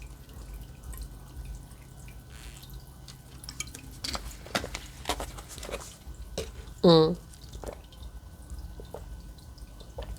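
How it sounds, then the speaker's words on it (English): A single short sip of water, a brief wet slurp that stands out once against a quiet, faintly noisy background. "Let me get a sip of water"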